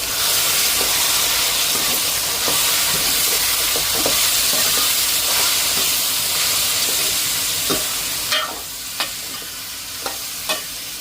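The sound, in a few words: onions and chillies sautéing in pan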